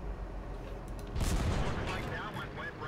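A World of Tanks tank cannon fires once at an IS-3 or KV-3, a single heavy boom midway through that stands out over steady engine rumble and other battle noise, with no one talking.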